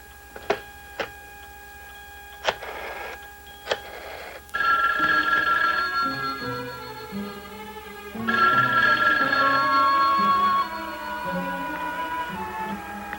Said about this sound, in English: The phone rang for a long time